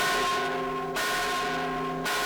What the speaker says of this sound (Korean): 성당의 종소리는 당시 스페인 식민 권력의 범위를 나타내주기도 했다.